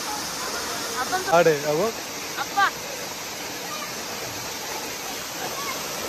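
Constant roaring rush of Mohili waterfall at Karjat, steady and close, with brief voices calling out over it near the start.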